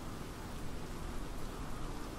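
Steady, even rain hiss from inside Microsoft Flight Simulator at Oxford Airport, a constant wash of falling water with no breaks or voices over the whole stretch.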